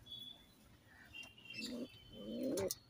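A male Fulshira Madras pigeon gives two throaty rolling coos, the second longer and louder, close by over a faint background hiss.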